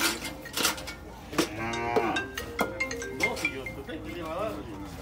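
A cow on a farm moos in long drawn-out calls, with metallic clinks and someone speaking Spanish close by.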